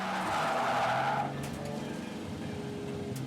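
A drift car slides around Sosnova circuit in the Czech Republic at a Drift All-Stars Grand Prix, its tyres giving a loud squealing skid for about a second. A rumbling engine follows as the car moves away.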